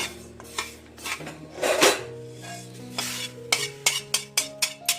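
Roasted sesame seeds scraped and scooped from a hot pan with a spoon, giving a run of close, sharp metallic clinks that quicken into evenly spaced taps near the end, with soft rustling between them.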